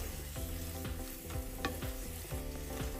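A salted potato filling for batata vada is stirred as it fries in a pan, with a constant sizzle and a regular scrape of the spoon about every half second, close by. No one speaks.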